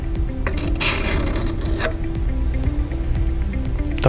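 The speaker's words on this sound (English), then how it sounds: "we'll hold our sharpening tool completely flat against the blade and just make a few passes to remove any burr" A sharpening tool rasps and scrapes close up along a Jameson pruner blade, making a few passes to remove the burr, with a steady gritty rubbing and faint metallic ringing.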